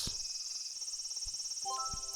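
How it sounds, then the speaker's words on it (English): Loud, steady cicada drone fills the scene in the visual novel If My Heart Had Wings, a dense shrill buzz holding throughout with faint soft tones and thumps entering near the end. "Those are loud cicadas."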